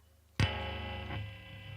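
A sudden switch-on thump, then a guitar amp's steady buzzing electric hum with distortion on, a gritty, distorted edge that sustains to the end.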